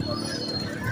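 Pigeons coo softly in a busy Lahore bird market, a low murmuring burble close by beneath steady crowd noise and voices.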